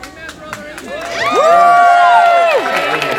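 A studio audience erupts in loud cheering and applause, with whoops and shouts swelling into a sustained roar before easing off, close and full throughout.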